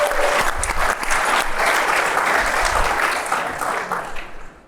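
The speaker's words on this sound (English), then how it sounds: "Yeah, you can give him a round of applause for that." Loud, dense applause from a live audience at an All-In Live event, rising quickly then tapering off over the last second, with a faint crowd murmur underneath.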